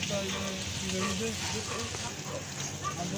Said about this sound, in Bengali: এর ভিতরে ঝাল পেঁয়াজ মশলা দিয়ে এটাকে ভাজা হবে ভালো করে